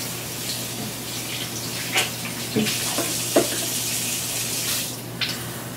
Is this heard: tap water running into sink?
yes